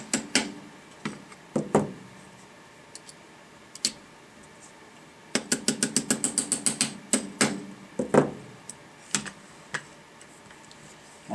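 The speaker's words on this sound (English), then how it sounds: "and just push the pins through" Pins pushed into a TacCon 3MR trigger assembly make small, close mechanical clicks and ticks, scattered at first, then a quick run of about a dozen rapid clicks, then a few more.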